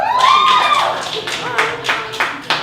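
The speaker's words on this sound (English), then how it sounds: "Clap, make some noise." Scattered audience claps at a spoken-word showcase, a few sharp separate hits spaced out after a stretch of voice at the start.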